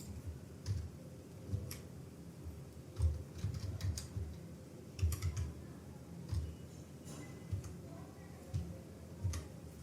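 Numbers typed on a computer keyboard come as a run of light, uneven key clicks and taps, close and moderately quiet against a faint background hiss.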